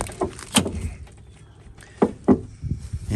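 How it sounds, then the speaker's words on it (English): The door of a rusty 1988 Chevy C-1500 pickup truck with sagging hinges is opened, giving a few sharp metallic clunks and creaks spread across a few seconds, moderately close, with no talking. "Now we'll open up the door."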